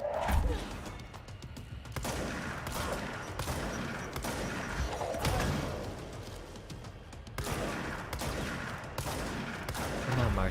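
Sustained gunfire in the video game Control, with repeated bursts and shots firing in clusters across the whole stretch, loud and close with heavy thumping impacts.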